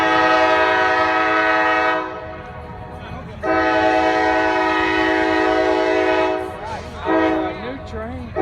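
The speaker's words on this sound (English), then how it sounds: "train is coming in." A train pulls into the station at Brunswick, Georgia, its horn blaring in long, loud sustained blasts with a short gap between them, while a voice talks briefly near the end.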